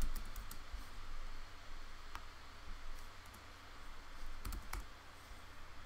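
Computer keyboard typing for terminal commands on a desktop, a quiet run of scattered soft key clicks and taps over steady background hiss, with a few sharper clicks standing out.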